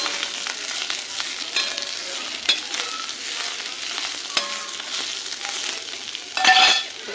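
Chopped coriander sizzling in hot oil in a pan while a spoon stirs it, with steady frying hiss and intermittent scraping clinks, close and alone without talk.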